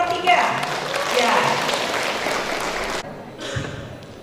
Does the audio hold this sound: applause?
yes